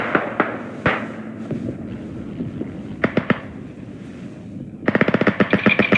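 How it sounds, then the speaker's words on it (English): Grenade blasts and rifle fire in the World War I shooter Beyond The Wire, with scattered booming explosions, a cluster of sharp shots and then a rapid burst of gunfire, all loud and close, with no voices. "Yeah, throw grenades at it."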